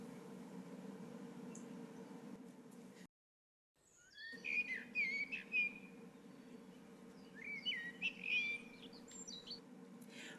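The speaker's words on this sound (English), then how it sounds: "I love the birds." Songbirds chirp and trill in the opening of Pride & Prejudice, bright repeated calls over a steady low rural hum, broken by a brief silence before the singing resumes in close, clear bursts.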